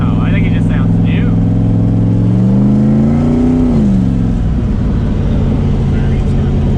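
A turbocharged 6.0 LS V8 swapped into a Mustang drones loudly from inside the car, its low engine tone climbing in a steady rev then dropping back, with turbo whine and people chatting over it.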